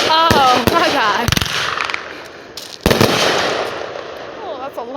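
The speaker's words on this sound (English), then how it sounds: "That's the cool fireworks that we're making now" Fourth of July fireworks bursting nearby, a handful of sharp loud cracks and bangs separated by crackling and whistling, with excited voices talking over them.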